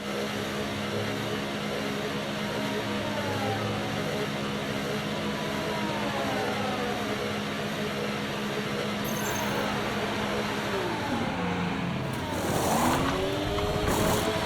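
An F1 car in the F1 24 racing game holds a loud, steady engine whine that drops and shifts pitch toward the end as it slows into the pit lane, with a brief rise in revs near the close.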